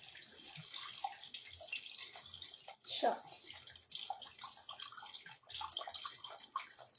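Water gurgles and splashes as it is poured into a container while making homemade buko pandan ice candy, a soft continuous trickle with one brief fuller pour, under quiet talk.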